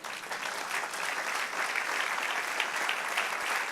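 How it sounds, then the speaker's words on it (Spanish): Steady applause from a church congregation during a Spanish-language evening worship service, a dense, even patter of many hands clapping continuously without a break. "Dale un aplauso al Señor."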